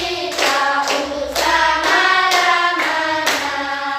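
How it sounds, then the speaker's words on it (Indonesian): A classroom of children claps together in a few loose bursts of hand claps, close and fairly loud, with a tonal backing running underneath. "Tepuk tangan untuk kita semua."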